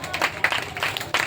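A church congregation clapping hands during worship, a crowd's uneven rhythmic applause with a few louder bursts, moderately loud and close, lasting only briefly.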